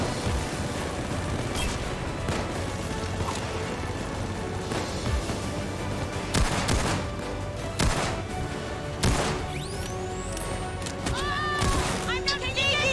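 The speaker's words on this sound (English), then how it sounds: "Why is there a turret here? It shouldn't be here." Automated turret firing inside a Payday 2 heist, loud rapid gunfire bursts and sharp cracks over a dense, continuous wash of game noise and effects.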